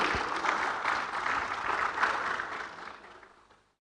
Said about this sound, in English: Please welcome Mr.